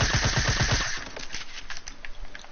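SMG fire in a 50 versus 50 online shooter game, a rapid, loud burst of evenly spaced shots up close that breaks off into scattered gunfire and clatter.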